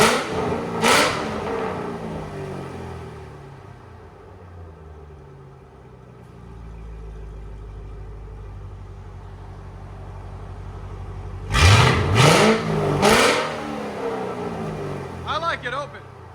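A 2006 Ford Mustang GT with a 4.6L V8 and Valvetronic mufflers open revs sharply in a few quick blips after a low idle rumble, loud and close, with brief talk near the start.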